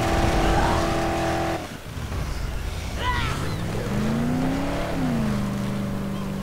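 Car engine in the video game Dead Island, a steady drone that cuts off, then restarts and revs up through a rising pitch before settling into a loud, constant hum, with a few brief squeaky sounds midway.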